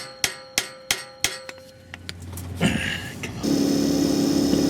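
A hammer strikes a welded catalytic converter on a Toyota Highlander, about six sharp metallic blows in a steady rhythm, close and loud, before an engine-like roar takes over.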